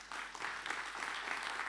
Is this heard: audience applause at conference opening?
yes